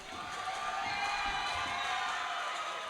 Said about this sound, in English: the crowd acknowledging the first point of the second half